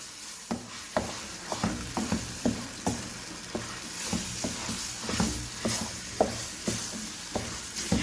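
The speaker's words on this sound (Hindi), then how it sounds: "तो अब अच्छे तरीके से इसको मसाले में मिक्स करते हैं।" Ground mustard greens being stirred into masala in a frying pan, a sizzle with repeated scraping knocks of a spoon against the pan at an uneven rhythm, close and fairly loud.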